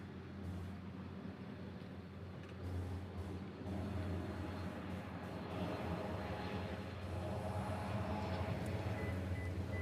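A distant airliner rumbles at Honolulu airport, a faint, steady broadband roar that swells slightly over several seconds with no talking.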